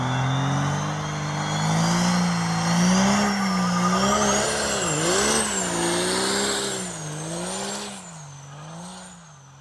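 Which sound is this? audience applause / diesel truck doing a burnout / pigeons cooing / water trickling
diesel truck doing a burnout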